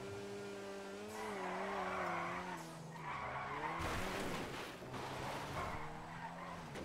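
Lada Cheburek in GTA 5 Online sliding with a loud, sustained tire screech that wavers in pitch over several seconds, over steady engine noise, with no talking.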